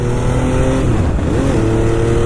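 An MV Agusta F3 motorcycle engine drones loud and close on a cold winter morning ride, its steady tone rising and dipping slightly in pitch as the throttle shifts, with wind rush throughout.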